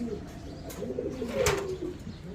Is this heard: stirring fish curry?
no